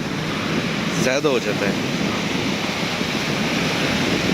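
Sea waves washing up onto a beach in a steady broadband surf wash, with someone talking over it and a brief whooshing swell near the start.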